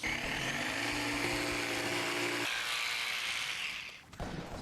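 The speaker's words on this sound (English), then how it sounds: "we're going to cut out this little section right here with the jigsaw" A jigsaw cuts out a small section with a steady, buzzing drone under a changing pitch, then the motor winds down and stops near the end.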